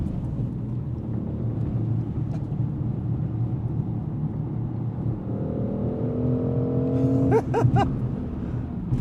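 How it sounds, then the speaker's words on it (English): A 2025 BMW X3 M50's B58 engine pulls hard under steady load, its tone rising as it accelerates, with a quick shift flurry near the end, loud and close from inside the cabin. "Oh, the B58 is such a good motor."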